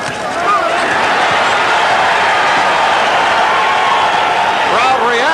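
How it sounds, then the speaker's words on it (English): A large boxing arena crowd roars and cheers continuously for several seconds during the Larry Holmes vs Carl Williams heavyweight title fight, a dense wash of voices filling the space, with a few shouts rising near the end. "Crowd reacting to the combination."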